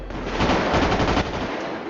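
Dense, rapid gunfire from an attack in the GTA V roleplay game fills the whole burst, loud and continuous like sustained machine-gun fire with overlapping shots and no pauses.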